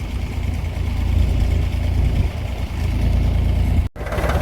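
A farm tractor's engine runs steadily and close by during sugarcane hauling, a continuous low rumble with a brief dropout near the end.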